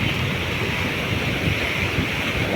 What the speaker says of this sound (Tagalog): Lakas na yung hangin eh.